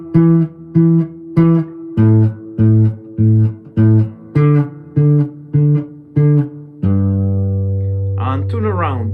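A guitar plays only the chord roots of a two-five-one progression toward G, a series of single, evenly spaced plucked notes that ends on a longer sustained note with a brief higher rattle, with no voice present.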